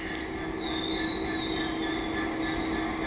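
Class 66 diesel freight locomotive 66198 passing at Westbury, a steady loud rumble of engine and wagons with a thin wheel squeal rising briefly over it, continuous throughout.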